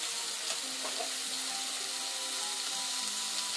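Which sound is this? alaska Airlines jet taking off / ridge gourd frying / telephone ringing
ridge gourd frying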